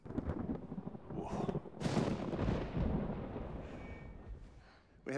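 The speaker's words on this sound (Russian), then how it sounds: "Включите грозу." Deep rolling thunder rumbles and cracks loudly through the whole stretch, with booming bursts and a sustained roar like a heavy storm overhead.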